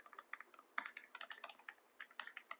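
Close, quiet, brisk typing of a prompt on a computer keyboard, with a steady run of light key clicks and small irregular pauses and no voices.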